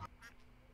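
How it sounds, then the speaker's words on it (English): One short, faint quack from a duck in Terraria, heard alone and gone within a fraction of a second. "Look at the duck. You go quack."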